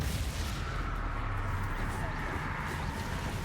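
Confringo and Depulso spell blasts in the video game Hogwarts Legacy, a loud, dense roar of explosive noise that fills the whole moment without pause, with a voice partly mixed in.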